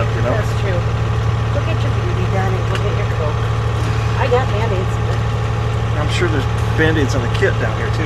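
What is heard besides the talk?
7-ton truck engine idling while warming up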